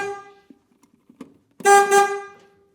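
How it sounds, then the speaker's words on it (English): A mail truck's horn blares twice in close succession, loud and near, after a few faint clicks and taps. "Sorry for the honking."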